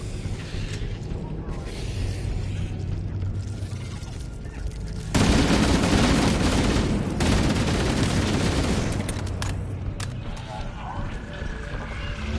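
Assault rifle fire in the Halo video game: a loud, dense sustained burst of automatic shots over a steady game soundscape, with sparser sounds before and after.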